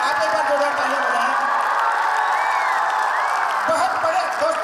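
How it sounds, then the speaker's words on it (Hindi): An audience at the CLC JEE Vijayotsav 2017 celebration claps and cheers for the team, keeping up a steady, full crowd roar with whoops throughout. "पूरी टीम के लिए आप एक बार जोरदार तालियां बजाएं"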